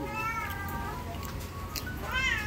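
A cat meows twice, drawn-out and wavering, close by, over a steady wash of heavy rain.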